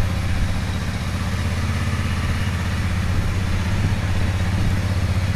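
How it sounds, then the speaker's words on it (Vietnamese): A Honda Rebel 300 motorcycle from 2019 with an aftermarket exhaust idles steadily up close, a loud, even low-pitched thrum with a fast, regular pulse and no voices. "Rồi để em nổ máy cho mọi người nghe nha, tiếng bô Vin nổ cũng khá là hiền,"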